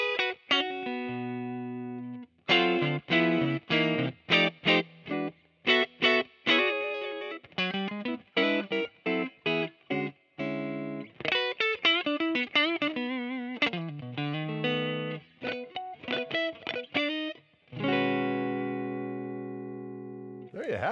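A Fender 1959 Stratocaster electric guitar played clean through the neck pickup, with picked notes and chords in a loose rhythmic phrase, short pauses between runs and a final ringing chord, close and clear.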